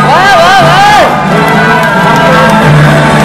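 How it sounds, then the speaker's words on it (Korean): At a party leadership election rally, a large crowd loudly cheers and shouts for a candidate, with sustained roaring voices and rising and falling yells that drown out any individual clapping. "여러분 큰 박수로 맞아주시기 바랍니다."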